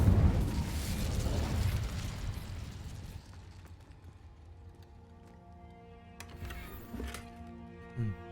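An Incendio fire spell cast in the Hogwarts video game, a loud whooshing burst of flame that roars and fades over a few seconds, followed by quieter clinks and small impacts.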